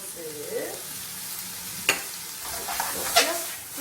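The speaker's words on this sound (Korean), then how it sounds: "소스 졸여요" Soft sizzling of sauce reducing in a frying pan during udon stir-fry, with occasional clinks and scrapes of a utensil stirring, close by, moderately quiet.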